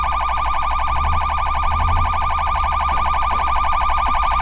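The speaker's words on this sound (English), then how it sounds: "Your siren's on." A loud, continuous police siren in the video game Flashing Lights wails and warbles in a rapid repeating pattern, close and steady throughout with no voices.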